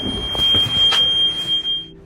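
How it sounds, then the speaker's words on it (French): A radar alarm aboard a sailing boat at sea sounds as a loud, steady high-pitched electronic tone, held continuously with faint background noise and no speech. "Ce bruit-là, c'est l'alarme du radar qui dit qu'il y a quelque chose."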